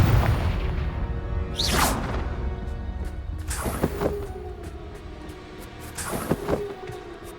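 Confringo fire spells in Hogwarts Legacy blast out as three whooshing bursts, each ending in a booming impact, spaced a couple of seconds apart over a low rumbling background.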